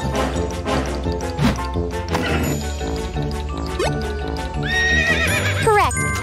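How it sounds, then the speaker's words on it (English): A horse whinnies loudly near the end, a wavering neigh over busy cartoon music. "Correct, horses neigh."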